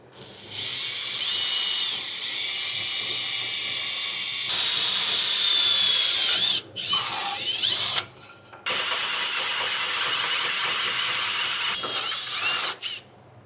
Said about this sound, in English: I'll drill a small pilot hole.